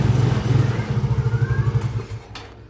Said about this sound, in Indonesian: Kita coba lagi dikontakkan, selanjutnya kita starter. Nah, ini sudah nyala kembali ya teman-teman.